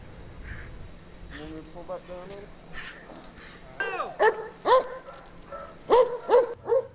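Police K-9 dog, a slim and agile dog working through fence-jump training, yelping and barking in several sharp bursts that grow louder toward the end, with some fainter whimpers early on.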